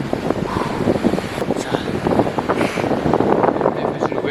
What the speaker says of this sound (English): Now it's raining and just like strong gust of wind pushing me, trying to knock me off my feet.